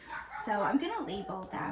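Several dogs bark and yip nearby in a home, in short overlapping bursts behind someone talking.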